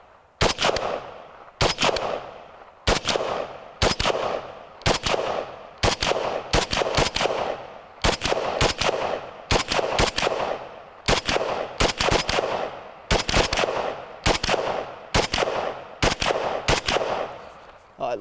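Romanian WASR 10/63 AK-47 rifle firing semi-automatic shots outdoors, a long steady series of loud, sharp cracks about one per second, close and echoing, with no voices between them.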